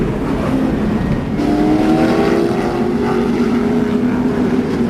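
On-board engine of Speedcar Series race car number 08 at the 2008 Malaysia round, a loud, sustained high-revving roar with rising and shifting pitch as it drives, close and dominant with no talk.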